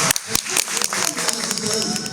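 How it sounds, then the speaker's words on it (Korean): Audience applause at a rural small-farm presentation, a dense patter of many hands clapping through the whole stretch, mixed with voices and murmur in the room. "그 이거에 대해서 그냥 박수 한번 드리죠"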